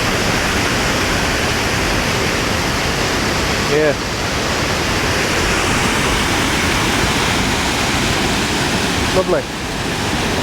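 A waterfall on the Stainforth Loop in Yorkshire roars as a continuous, loud broadband rush of falling water, close by, with a couple of brief spoken words over it.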